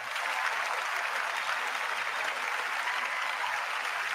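Sustained applause fills a large chamber during a State of the Union address, a dense, even wash of many hands clapping at a steady level from start to finish with no talking.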